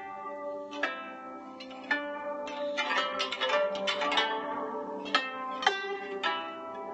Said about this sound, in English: It is the name of it specifically is the Guzheng